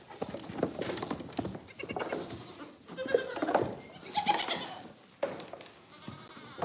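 Baby goats at a goat farm bleat repeatedly in an overlapping chorus, several close, wavering cries over a busy barn background with no talking.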